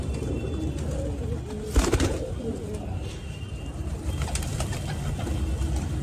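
Kasni Patet pigeons coo softly amid a steady murmur of birds, with a brief louder rustle or knock near the middle and people talking in the background.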